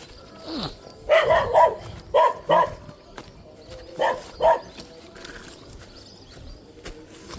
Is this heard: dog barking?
yes